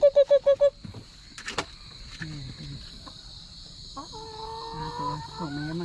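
Backyard laying hens clucking in short bursts, with a rapid chirping insect-like trill at the start and a few sharp clicks, all faint and close with no voices.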